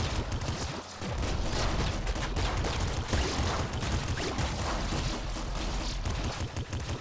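Weapons fire in the top-down shooter Nuclear Throne bursts out in rapid, near-continuous volleys with booming impacts, loud and close, briefly dropping out near the start before resuming steadily.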